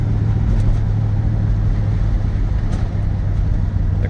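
A 1965 Chevrolet Corvette engine runs at a steady idle, a loud, continuous low rumble with a constant drone and no pauses.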